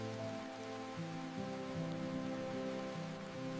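Rain falls steadily in a Swiss alpine village, an even, soft wash of drops on surfaces with no breaks, heard alone and at a low level.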